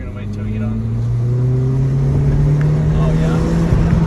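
An Acura RSX engine revs hard into VTEC, its pitch climbing smoothly and steadily. The loud, close engine note keeps rising for several seconds.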